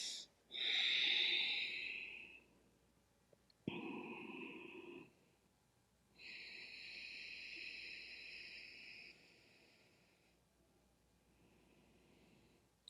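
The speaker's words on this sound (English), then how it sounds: "give yourself 5 good deep breath cycles to breathe" Slow, deep breathing in a yoga forward fold: four long, airy breaths close to the mic, alone in a quiet room, each rising and fading over a couple of seconds.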